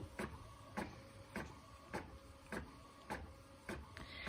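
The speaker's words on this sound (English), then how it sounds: "what we're printing out is the design we just worked on, the extra salty one, on 11 by 17 film" A printer runs a design onto 11 by 17 transparency film, its print head sweeping back and forth in regular passes about every half second, each pass a soft whir with a clack at the end, quiet and close.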